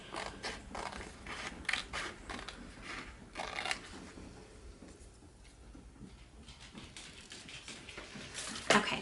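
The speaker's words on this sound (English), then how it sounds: "take my scissors and quickly cut this out." Snipping and cutting sounds as scissors cut paper, a series of crisp clicks and rustles at close range, with a louder snip near the end.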